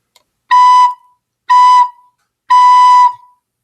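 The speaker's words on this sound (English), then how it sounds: "In order to play B on your recorder" Three sustained recorder notes on B, each about half a second long, separated by short silences, clear and close.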